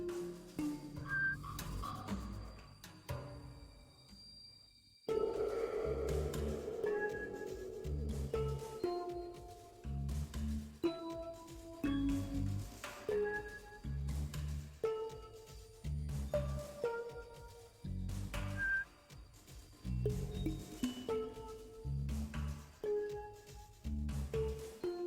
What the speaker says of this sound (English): Whistling. I'm the only one allowed to whistle here.